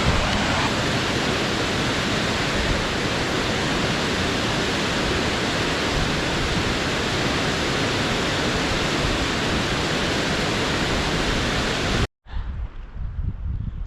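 A waterfall near a lake in Breckenridge, Colorado roars as a loud, steady, broadband wash for about twelve seconds, then cuts abruptly to a quieter outdoor ambience.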